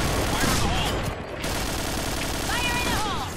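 Gunfire in the Point Blank shooter game, dense rapid bursts of shots running through the whole clip at close range, with a brief dip in the middle, mixed with game effects and a voice talking over it.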